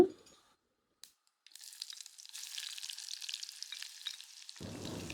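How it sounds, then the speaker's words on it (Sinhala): After a brief quiet start, mustard seeds in hot oil sizzle and crackle steadily with dense spitting pops, growing louder toward the end. "තෙල් රත් වෙනකොට ඒකට අබ තේ හැඳි එකමාරක් දාගන්නවා. අබ ටික හොඳට පුපුරන්න දෙන්න."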